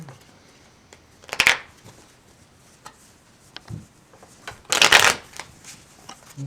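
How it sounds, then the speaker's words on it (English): A deck of playing cards shuffled in two quick riffling bursts a few seconds apart, close and crisp against a quiet room with faint small clicks between. "I'm just going to have you give those a shuffle."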